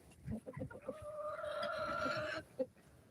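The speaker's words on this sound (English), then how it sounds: "This is Marshall and his group of hens." A flock of hens clucks nearby, with a few short clucks leading into a drawn-out, tonal call from one bird, then a final cluck.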